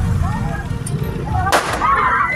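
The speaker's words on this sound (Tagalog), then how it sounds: "Sunod-sunod nang nagpaputok ng baril." Gunfire from an SUV driver's pistol during a roadside road rage attack in Rizal, with a sharp broadband crack standing out against busy street noise and murmuring voices, sounding fairly close.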